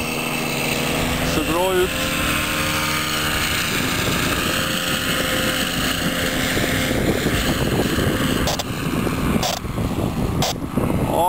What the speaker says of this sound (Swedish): Han flyger långsamt, motorn går på lågvarv.